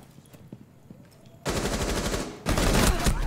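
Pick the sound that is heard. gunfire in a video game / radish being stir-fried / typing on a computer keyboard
gunfire in a video game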